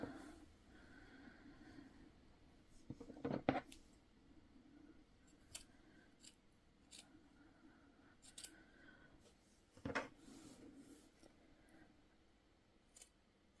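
Scissors snip off fabric wadding in a quiet room, giving a few soft, close crunching cuts with a sharper pair in the middle and another near the end, between faint rustles and breathing.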